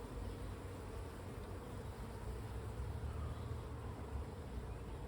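A dense, continuous buzzing of many honeybees, workers and drones, close by at an open hive, steady and unbroken throughout.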